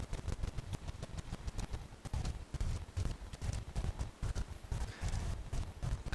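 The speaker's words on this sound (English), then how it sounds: "I believe we have another one of those golems. I can hear their footsteps." Heavy metal golem footsteps approach from behind in a roleplay scene, a loud run of dense, thudding clip-clop steps in steady rhythm filling the whole stretch.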